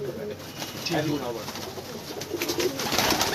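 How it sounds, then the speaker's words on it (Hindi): Pigeons of Ustad Rana Razzaq's breed coo softly in low, rolling calls, close by and repeated, with someone talking over the birds much of the time. "ये जनाब उस्ताद राना रज़ाक साहब के कबूतर हैं"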